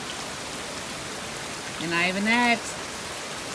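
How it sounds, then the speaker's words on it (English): Steady rain falling outdoors on a dark, cold, wet evening, pattering on muddy ground around a gutter lying in the dirt, a constant hiss throughout with a voice speaking briefly over it. "in the rain, in the mud"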